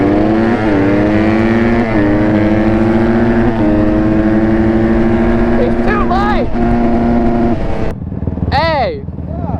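A Honda 150 motorcycle fitted with a turbo pulls hard in a race, its engine note climbing steadily through the gears and loud and close, with a brief burst of another revving engine near the end.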